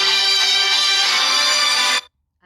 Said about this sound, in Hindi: मुझे फ़ोन आ रहा था पीछे से 2 बार किसी का